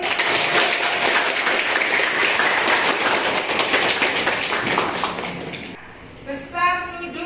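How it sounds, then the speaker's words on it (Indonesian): Classroom applause from a group of students fills most of the stretch, dense and steady clapping that fades out near the end, followed by a brief moment of voices. "Beri aplaus untuk"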